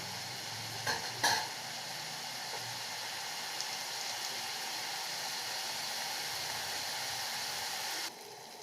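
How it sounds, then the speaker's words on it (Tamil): Onions and tomatoes sauté in a pan for drumstick poriyal with a soft, continuous sizzle. Two light utensil clinks come near the start, and the sizzle cuts off abruptly near the end. The sound is quiet and close, with no speech. "உப்பு ஆட் பண்ணதுனால சீக்கிரம் வதங்கிடும் எல்லாம் சேர்த்து நல்லா வதக்கி விட்டுக்கோங்க"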